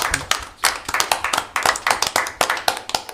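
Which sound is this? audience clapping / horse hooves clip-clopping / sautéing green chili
audience clapping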